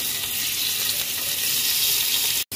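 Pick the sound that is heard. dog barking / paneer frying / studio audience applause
paneer frying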